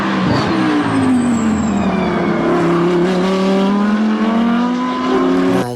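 A toy McLaren race car plays a recorded engine sound, a loud continuous revving tone that climbs and sweeps in pitch for several seconds, close to the microphone.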